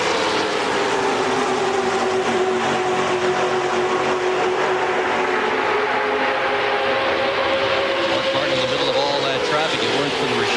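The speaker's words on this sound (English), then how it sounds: "Eli, listen to the motors. You could hear them purring down through there" Stock cars race past in a dense pack at the 1998 Pepsi 400 under restrictor plates, engines running wide open in a steady, droning roar with a slowly shifting pitch that holds throughout, under a commentator's voice.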